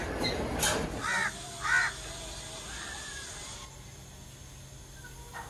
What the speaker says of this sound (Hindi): कौवा ऊपर बैठ गया है।